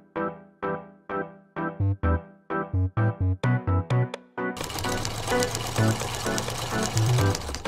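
A sewing machine topstitches a t-shirt seam, first as a series of short separate clunking stitch bursts, then as a fast continuous run of stitching, loud and close with no voice.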